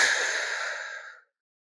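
A single slow, breathy exhale during a crescent lunge in a morning yoga flow, close and soft, fading smoothly away after about a second.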